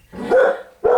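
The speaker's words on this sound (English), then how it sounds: "my dogs are barking" Pet dogs barking nearby indoors, two loud, sharp barks in quick succession.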